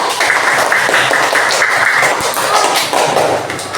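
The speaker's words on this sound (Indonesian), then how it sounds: "ya, tepuk tangan." Classroom group clapping on cue, a busy rapid patter of many hands with no talking over it.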